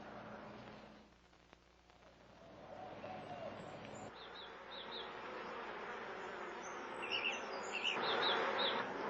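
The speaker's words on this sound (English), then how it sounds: "All through the autumn, the honeybees are hard at work." Honeybees buzz through an autumn garden in a steady, soft insect drone, with faint bird chirps scattered over the top.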